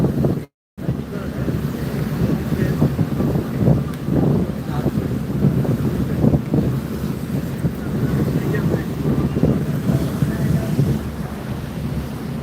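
Passenger launch Rob-Rob 2, a river ferry, moving on the water, with a steady broad rumble of wind and water wash throughout and a brief dropout near the start.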